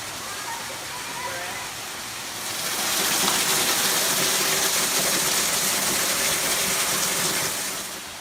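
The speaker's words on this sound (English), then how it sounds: "View of the waterfall from the trail on the other side" Waterfall at Red River Gorge roaring as a steady broadband wash seen from a trail across from it, quieter at first then swelling louder and holding constant.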